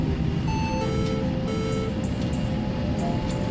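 A Fokker 100 cockpit warning sounds as an autothrottle channel drops out during the takeoff run, a repeating electronic tone over heavy, constant engine roar, fairly loud and close.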